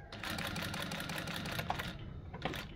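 Sewing machine stitching in reverse, a rapid mechanical whirring and clatter of the needle running for about two seconds, then a brief second burst, close and quiet.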